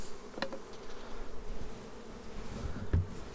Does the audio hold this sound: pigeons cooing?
no